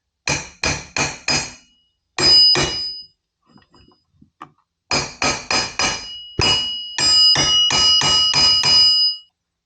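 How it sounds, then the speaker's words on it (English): Sharp metallic hammer blows on the flywheel of a 1985 Honda Spree NQ50 ring out in quick bursts of three to five strikes, loud and close, with short pauses and faint taps between groups. "Let's see if a few hammer taps can move this and hopefully shake up this weld"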